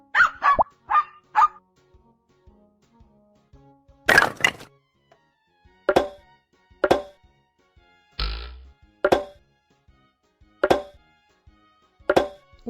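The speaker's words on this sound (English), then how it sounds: "Dog." A dog barks in separate sharp bursts, about a dozen across the span, some in quick doubles and others spaced well apart, close and loud against an otherwise quiet background.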